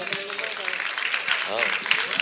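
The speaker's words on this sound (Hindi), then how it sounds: "ताली बजा दो यार, मैं शुरू हो जाऊं।" An audience at a village mushaira poetry gathering in Chakrapanpur, Azamgarh, claps in a short burst of scattered applause, mixed with someone speaking over it.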